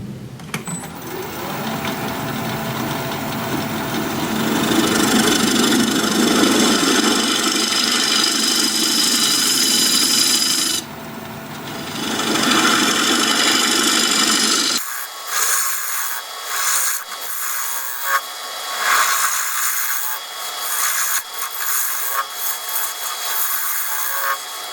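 A wood lathe hums while a tool cuts a recess into a cherry bowl, giving a loud, steady rubbing scrape for about fifteen seconds, then a stretch of lighter, intermittent scraping and ticking with no speech.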